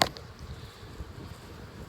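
A honey bee swarm buzzes as a steady, faint hum, with a sharp sound at the very start and bees droning on throughout.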